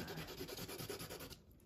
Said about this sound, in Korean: 더 쉬운 방법은 바닥에 놓고 폭풍 사포질하는 겁니다